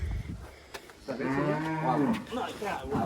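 A cow lets out a long, loud moo close by on a homestead farm in El Salvador, with farmyard background noise before and after.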